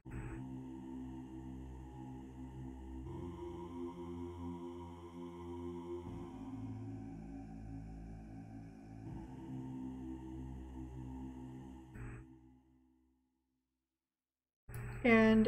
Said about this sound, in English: And then I have a choir accompaniment that sounds like this.